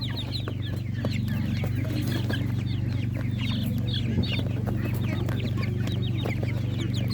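Several chickens at an outdoor livestock market cluck and chatter continuously over a steady low hum, with scattered higher chirps and calls throughout.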